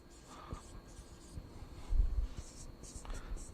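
Pen writing out a prime-factor statement by hand on paper, soft scratchy strokes that come in short bursts, close and quiet, with a little faint speech mixed in.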